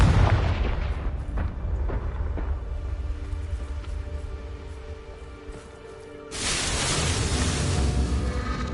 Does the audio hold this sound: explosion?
yes